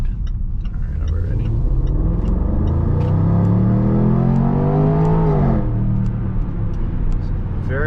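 A 2018 Range Rover Sport Autobiography's engine accelerates from inside the cabin, a rumbling note climbing steadily in pitch before a smooth gearshift drop, with faint clicking in the background.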